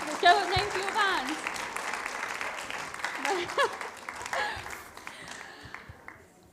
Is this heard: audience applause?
yes